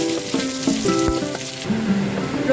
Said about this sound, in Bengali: এবার আমি পেঁয়াজ রসুনটা দিয়ে দেবো